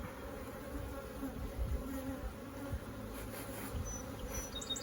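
Honey bees buzzing steadily around an open single-brood-chamber beehive, a dense continuous hum at close range with no talk.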